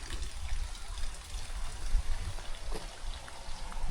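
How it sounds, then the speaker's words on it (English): Water flows in a stream below a bridge in St Thomas, Jamaica, giving a faint, continuous trickling rush with soft low rumble and occasional small splashes, heard from a distance. "Water is down there."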